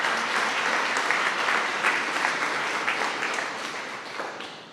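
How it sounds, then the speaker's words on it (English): An audience at a Startup Grind Wichita event gives speaker Ben Hutton, CEO of Hutton Construction, a warm round of applause, a dense, continuous clatter of many hands that slowly tapers off. "give him a round of applause, people"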